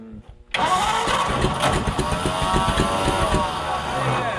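A Ford Flathead V8-60 engine in a hot rod catches after a brief crank and runs loud and close at full throttle, with a steady rough roar, uneven pulsing and voices speaking over it.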